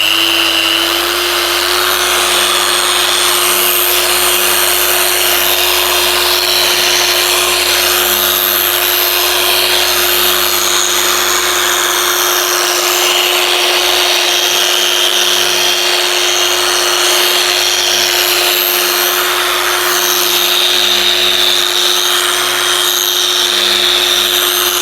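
A polishing machine with a pad and grit buffs a Porsche headlight lens, making a loud, continuous high-pitched whine that stays steady and close throughout with no talking.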